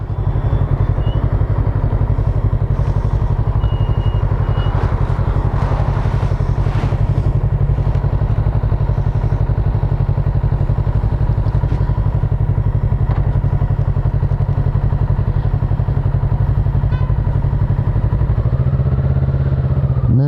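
A new Kawasaki Z650RS motorcycle, ridden while being broken in and kept under 4000 rpm, gives a loud, continuous engine drone with low rumble and occasional clatter and thumps, steady throughout and easing in the last seconds.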